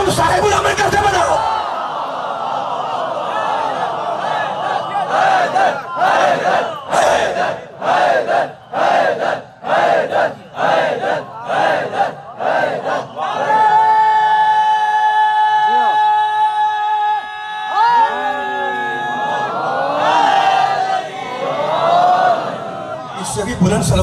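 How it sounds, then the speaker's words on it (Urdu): A large crowd at a Muharram majlis in Tandojam chants salawat loudly in unison. The chant comes in rhythmic bursts and then turns into a long, sustained collective cry, with a speaker's amplified voice leading over the crowd. "اس سے بھی بلند صلوات پڑھ دے"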